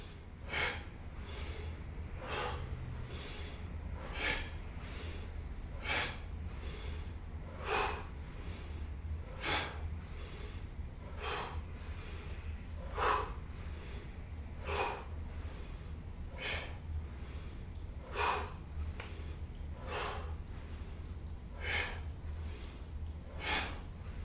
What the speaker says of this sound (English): Big breaths.